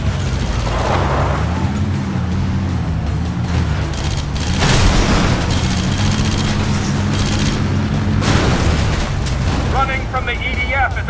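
Vehicle explosion and gunfire in Red Faction: Guerrilla, heavy booming blasts over a low rumbling engine drone, with bursts of shots and a voice talking over the loud action.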